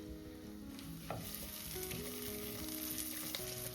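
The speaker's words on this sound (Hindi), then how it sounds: "कुछ सेकंड्स के लिए सौटे करेंगे।" Finely chopped garlic and green chili sizzle steadily in hot oil and butter, a soft continuous crackle with an occasional stir or tap of a utensil, and no one speaking.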